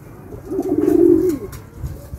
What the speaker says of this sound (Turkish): Sen Ahmet, dönek mi besliyorsun Ahmet?